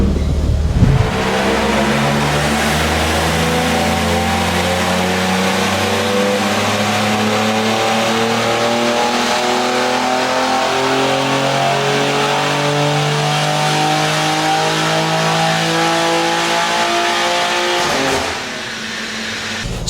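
A BMW G80 M3 strapped to a dyno on race fuel, its engine running loud and steady for most of the run with sustained rising and falling revs, then cutting off near the end.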